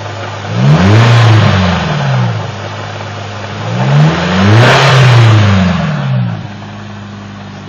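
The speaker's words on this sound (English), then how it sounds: "all the noise is coming from the throwout bearing" A Nissan 240SX engine with a noisy clutch throwout bearing idles loudly up close and revs twice, pitch sweeping up and falling back each time, over a steady mechanical whir.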